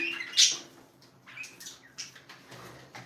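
Pet birds chirp and flutter nearby in short, scattered bursts, with one louder sharp call early on and softer tweets after it.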